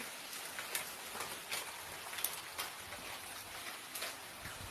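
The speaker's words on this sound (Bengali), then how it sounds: "কি বৃষ্টি পড়ছে দেখো কি জোরে বৃষ্টি হচ্ছে দেখো" Heavy rain pours down steadily, a dense hiss with scattered louder drops and splashes, no voices.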